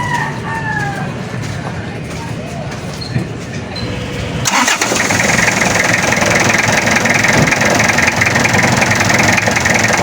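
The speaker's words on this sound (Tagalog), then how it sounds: "Start natin yung makina. Kasi ang mga diesel talaga" A diesel engine cranks over and catches midway, settling into a loud, steady rumbling idle; birds crow faintly in the background beforehand.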